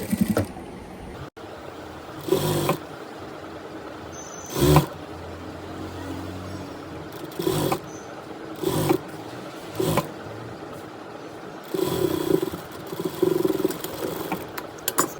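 A sewing machine stitches the belt of a Patiala salwar in a string of short bursts, each a loud mechanical rattling run of a second or so, separated by quiet pauses.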